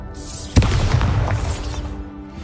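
A Confringo explosive spell goes off in Hogwarts Legacy, landing as one sharp, loud boom followed by a crackling, rumbling decay that fades over the next two seconds.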